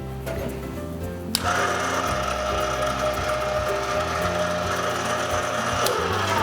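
A pasta machine presses polka dot pasta dough through its rollers, a steady close mechanical whir and grind with a rhythmic hum, a sharp click partway as the motor sound rises and then runs on.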